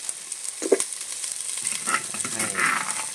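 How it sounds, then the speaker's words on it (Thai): Whole spices stir-fry in hot oil in a pan until golden, sizzling steadily with the occasional scrape and stir of a spatula, close up and with no talking. "ก็ผัดไปให้เหลืองนะฮะ"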